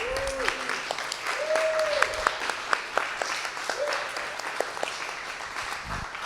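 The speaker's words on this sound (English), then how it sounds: "Huge round of applause for that." Audience applause at a Speedrun Summit event honoring Beyond the Summit, a steady wash of crowd clapping that holds for the whole stretch, with a few brief tones and sharp clicks over it.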